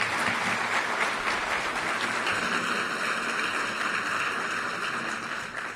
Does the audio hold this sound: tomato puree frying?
no